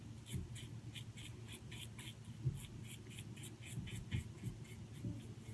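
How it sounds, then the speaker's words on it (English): A Gillette safety razor trims under a beard line with repeated short, scratchy rasping strokes in a steady rhythm, close and fairly quiet. "Going underneath the beard line to do a little trimming here."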